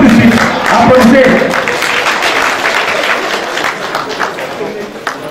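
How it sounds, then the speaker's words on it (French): Audience applause at a 13th anniversary celebration of the IUT in Maradi, Niger, a dense loud patter of many hands, with voices and some tonal sound mixed in underneath. "Tout de suite, applaudissez."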